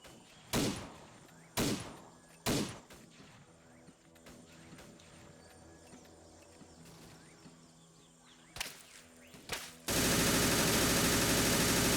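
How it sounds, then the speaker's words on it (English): A machine gun in Arma 3 fires in separate loud bursts, several short clusters of shots spaced a second or two apart, echoing over quiet ambience before a harsh wash of noise cuts in at the end. "that machine gun's got more stability and more bullets than them, and has a quicker fire rate"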